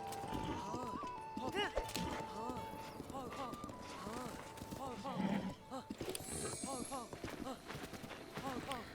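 Horse hooves clip-clop in Zelda: Breath of the Wild as the horse trots and runs in a steady rhythm, with an occasional whinny, under near-continuous talk and game music.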